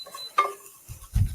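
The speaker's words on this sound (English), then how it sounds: "I'm going to stir in the cauliflower and a little bit of black pepper" Cauliflower being stirred into tender carrots and celery in a pan, a brief scrape near the start and a soft, low stirring shuffle near the end, quiet with no talk.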